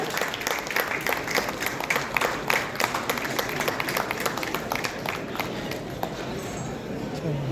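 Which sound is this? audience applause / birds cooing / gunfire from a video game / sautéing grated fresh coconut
audience applause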